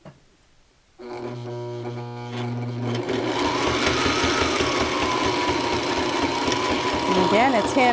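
A Sailrite Ultrafeed LS sewing machine stitches leather with a size 20 needle. The motor starts after a quiet second into a loud, steady, rhythmic chatter of needle strokes that grows a little fuller and runs to the end.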